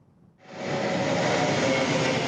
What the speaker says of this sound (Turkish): Moskova'da İHA'lardan kaçan bir kargo uçağı alçak uçuş yaptı.